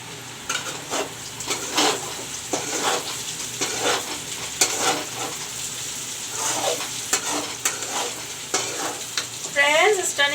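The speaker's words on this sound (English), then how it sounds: "Friends, you can see the parwal bhujiya is frying." Parwal bhujiya, sliced pointed gourd, fries in a pan with a steady close sizzle, broken by repeated scraping stirs of a spatula against the metal, with a light clink toward the end.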